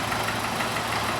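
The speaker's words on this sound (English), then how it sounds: "we've just started the engine because hopefully you can hear the noise of the water pump" A Volkswagen Golf engine idles with a steady, dense mechanical whir and a faint knocking hum, the water pump noise blended into a constant close drone with no talking.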